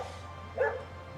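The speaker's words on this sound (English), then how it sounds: "Looks like a rat, barks like a demon." A single short bark from a small, rat-like dog, faint against a steady low background hum.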